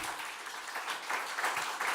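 Audience applause at a deeptech startup pitch session on energy in Paris, a steady dense wash of clapping from a crowd filling the whole moment without pause.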